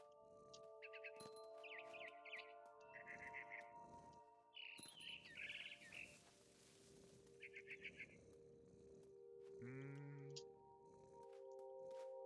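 Bright, quick barn swallow chirps and tweets in short bursts from the video game What Remains of Edith Finch, mixed with steady tonal hums and other game sounds, no speech.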